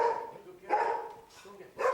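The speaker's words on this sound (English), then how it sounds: "We try to encourage an alert which is a digging and a barking alert." A search and rescue dog gives a digging and barking alert, with a few sharp barks in separate bursts, fairly close.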